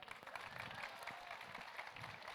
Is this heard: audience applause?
yes